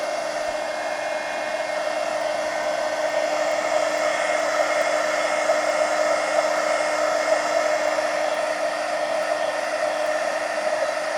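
A hair dryer blows on a napkin layer of a Halloween mixed media art journal page. It gives a loud, steady whirring roar that holds unbroken, close by, with no speech.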